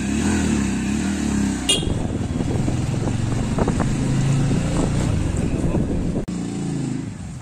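Motorcycle riding home along a road in Jharkhand, a steady engine drone with road noise and a sharp click partway through, while someone talks over it.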